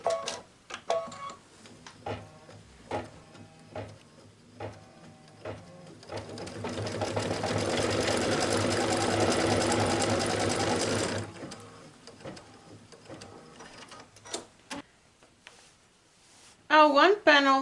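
A sewing machine runs a tack-down outline stitch through the lining fabric of a handmade poinsettia espadrille, giving a steady mechanical whir for several seconds between scattered clicks and handling noises, with a louder buzz near the end.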